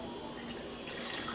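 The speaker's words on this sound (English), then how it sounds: "Add your water." Water runs from a kitchen tap into a cooking pot holding turkey tails, a faint, steady rushing stream with no talking.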